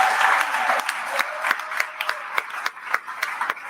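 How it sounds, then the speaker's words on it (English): Audience applause for the speakers at a live reseller conference wrap show: an initial thick burst of clapping that thins into scattered, distinct individual claps as it dies down, fairly close and clear. "Let's give a round of applause for all the speakers that we had this week."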